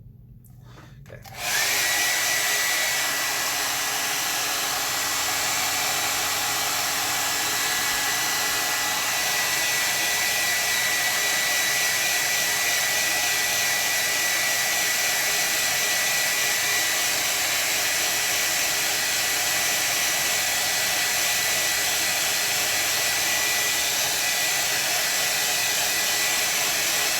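A hair dryer blows steadily across a watercolor barn painting, switching on after a moment of quiet and then running as a loud, constant whooshing hum close to the microphone with no talking.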